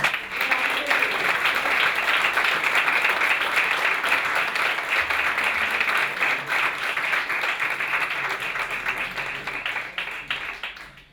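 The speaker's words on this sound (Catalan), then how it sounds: "Així que un altre fort aplaudiment per a ells, per favor." An audience gives musicians a sustained round of loud, dense applause that holds steady for about eleven seconds before tapering off at the end.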